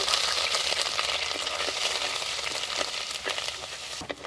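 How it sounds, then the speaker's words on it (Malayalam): Crushed ginger and garlic hitting hot oil in a pan for Kerala-style anchovy peera, giving a dense, loud, continuous sizzle with crackles and a few stirring scrapes, close up with no talk. "എണ്ണ നന്നായിട്ട് ചൂടായിട്ടുണ്ട്. ഇനി നമുക്കിതിൽ ഇഞ്ചിയും വെളുത്തുള്ളിയും ചതച്ചതിട്ട് കൊടുക്കാം."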